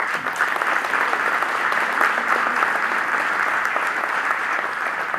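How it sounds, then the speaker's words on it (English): An audience at a community event claps in sustained, even applause that stays loud and dense throughout without fading. "So you can all give yourself an applause"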